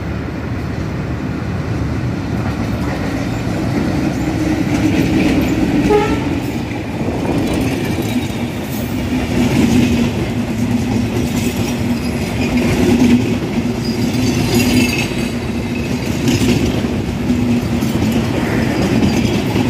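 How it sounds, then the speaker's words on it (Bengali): Rupsha Express, an intercity up train from Khulna, runs through Raninagar railway station on the main line, a loud, steady rumble and rattle of passing coaches with rhythmic clatter and a brief horn toot, no talking. "রানীনগর স্টেশনের মেইন লাইন দিয়ে থ্রু যাবে এই মুহূর্তে খুলনা থেকে চিরাসা চিলাটে অভিমুখী আন্তনগর আপ রূপসা এক্সপ্রেস"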